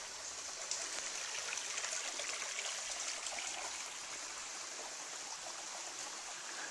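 Gill Creek on the Superior Hiking Trail rushes steadily nearby, a dense, even hiss of flowing water that stays constant throughout with no voices.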